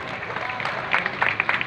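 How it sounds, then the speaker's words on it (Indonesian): A crowd at an Islamic haul gathering breaks into applause for a guest, a brief burst of clapping mixed with crowd noise and speech. "tepuk tangan untuk Pak Dani"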